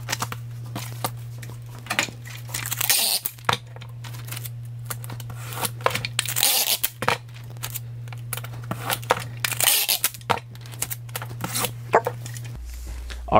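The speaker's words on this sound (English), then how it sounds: "let's tape them on the box." Shipping labels taped onto a cardboard box, with repeated crisp rustling, tearing and crinkling sounds close by over a steady low hum.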